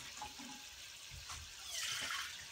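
Water poured into a pan of broccoli stir-fry, a soft liquid splash that swells toward the end, faint and close with no talk.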